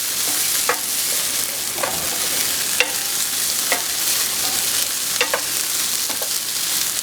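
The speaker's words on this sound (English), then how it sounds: "Let that garlic cook up for just 30 seconds or so" Sliced garlic fries with celery, carrots and onions in a pan for smothered chicken, giving a loud, even sizzle punctuated every second or so by a spoon scraping and stirring.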